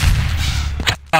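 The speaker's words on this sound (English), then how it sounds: "Rocket" A rocket launcher fires in Half-Life 2 Deathmatch, a single loud blast with a rumbling low roar that breaks off abruptly, followed by a sharp new burst at the end.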